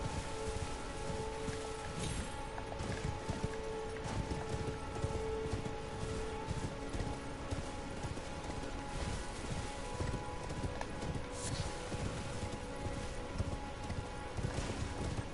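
Steady rhythmic hoofbeats of a galloping horse in the video game Elden Ring, continuous and fairly loud throughout, with a dense patter like rain underneath.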